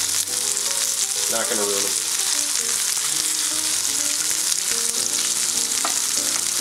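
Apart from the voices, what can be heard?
fish sizzling as it pan fries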